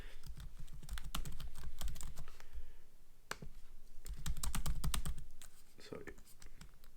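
Typing an email address on a computer keyboard produces rapid, close key clicks in two dense bursts, with a few scattered keystrokes between and after them.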